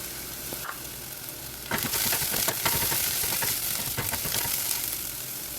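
Chopped ginger and garlic hit onions already frying in a pan for masala pasta, setting off a steady, loud sizzle with scattered stirring clicks after a brief quieter start; no one speaks.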